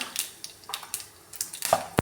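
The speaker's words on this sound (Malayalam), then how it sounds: "കടുകെല്ലാം പൊട്ടി വന്നിട്ടുണ്ട്." Mustard seeds crackle in hot coconut oil for a Kerala pineapple pachadi, a quick irregular series of small sharp pops close by over two seconds.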